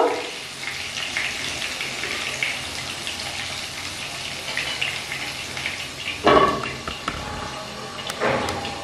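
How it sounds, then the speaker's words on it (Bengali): Potatoes with a pinch of salt frying in oil in a pan on a low flame, a steady soft crackling hiss throughout, with a couple of brief louder clatters near the end. "লো ফ্লেমে আলুগুলো ভেজে নেব, যাতে ভাজতে ভাজতে অনেকটা নরম হয়ে যায়।"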